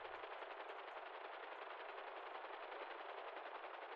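Rapid automatic gunfire in a GTA roleplay video game, a dense, continuous rattle of shots sustained for several seconds at a steady level, with no voices.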